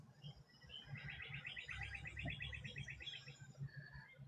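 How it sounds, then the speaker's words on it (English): Birds chirp outdoors in a new town, with a quick, bright trill in the middle of the stretch and scattered tweets around it. The birdsong sounds moderately distant over a low, rumbling background of wind or traffic. "Birds are always chirping."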